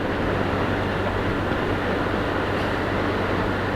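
A metro train runs past on the elevated line from New Garia toward Salt Lake, heard during a scooter ride. It makes a steady, loud broadband rumble and roar that lasts throughout with no break.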